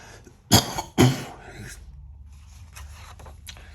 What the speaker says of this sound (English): when I cough, it hurts so fucking much